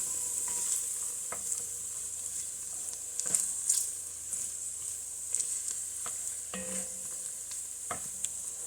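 Diced garlic, eight cloves, sizzles in a pot as the base for tomato bisque, a quiet steady hiss with occasional light stirring scrapes and taps.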